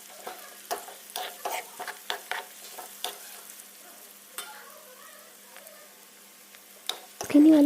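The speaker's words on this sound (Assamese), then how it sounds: "অলপ সময় পিঁয়াজখিনি ভাজি ল'ম" Sliced onions sizzle in hot oil in a wok as a spatula stirs them, giving repeated sharp scraping clicks over a soft, steady frying hiss, with a brief louder burst at the end.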